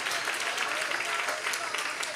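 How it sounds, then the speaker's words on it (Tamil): A congregation at a thanksgiving prayer meeting claps together in dense, sustained applause that fills the whole moment without pause. "நல்லா கைத்தட்டி நன்றியை செலுத்துங்க பார்க்கலாம்."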